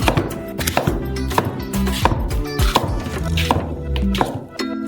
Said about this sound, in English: Cut the clean flesh of the melon.